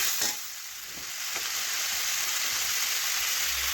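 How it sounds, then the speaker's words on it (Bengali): A garlic, onion and turmeric spice paste with a little water fries in a pan while being stirred, making a dense steady sizzle with faint scraping strokes underneath. "এখন নাড়াচাড়া করে একটু মশলা কষিয়ে নিলাম"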